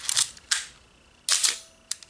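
Olympus OM-1 single-lens reflex camera firing its shutter with the mirror flipping up and down: four sharp mechanical clacks, arriving as two close pairs, crisp and near with quiet gaps between.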